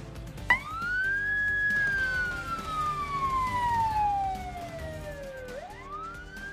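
Emergency vehicles responding to a fully engulfed house fire in Buffalo Gap sound a wailing siren that sweeps up and slowly down in pitch, fairly close and moderately loud over faint traffic rumble.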